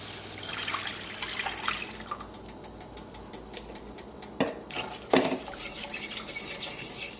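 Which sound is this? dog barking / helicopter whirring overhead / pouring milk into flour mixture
pouring milk into flour mixture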